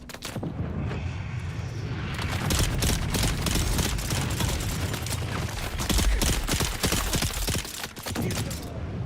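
Dense, continuous gunfire and booming explosions from the video game Dune Awakening, a rumbling barrage with rapid crackling shots running throughout at steady loudness.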